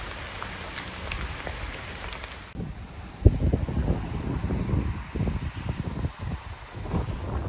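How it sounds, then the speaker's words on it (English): Heavy rain pours steadily on a countryside walking trail in the Cotswolds, a dense hiss of drops drumming on surfaces, with gusty wind buffeting the microphone. "It's absolutely pouring down with rain at the moment."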